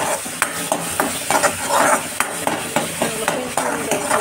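Garlic and curry leaves fry in hot oil for Marathwada-style kadhi, a close, busy sizzle punctuated by quick rhythmic clinks of a spoon stirring against the pan.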